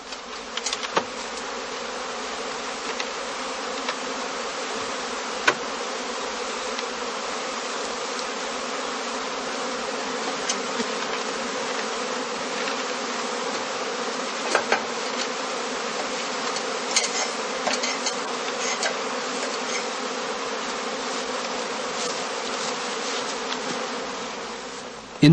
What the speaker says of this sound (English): As more and more swarms are thrown off and collect under the branches and the eaves